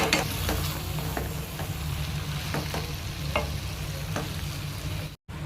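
Muri ghonto with ghee is stirred in a pan, a soft continuous sizzle broken by a series of sharp, close spoon scrapes and clinks against the pan at irregular intervals.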